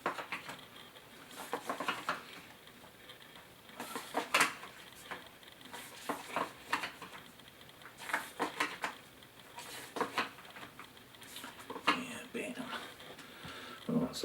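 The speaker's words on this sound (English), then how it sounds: "we're going to flip over all of the fields terrains" Cardboard terrain tiles from the Wu Wei: Journey of the Changing Path board game get flipped over one after another on a table, producing light, irregular clacks and taps, with a voice talking quietly in the background.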